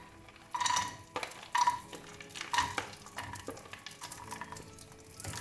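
Cashew nuts roasting in a spoonful of ghee in a pan over low flame, with a soft continuous sizzle broken by several louder scraping stirs of a utensil against the pan.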